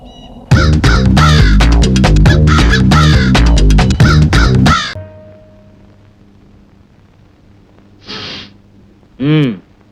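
Loud music plays for a few seconds and stops abruptly. After a quiet pause, two harsh crow caws ring out, the second louder and closer.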